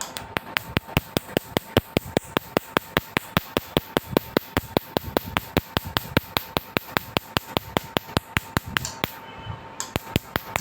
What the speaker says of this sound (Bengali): এই ট্যাটুটা রিমুভ করে দিতেছি লেজার মেশিন দ্বারা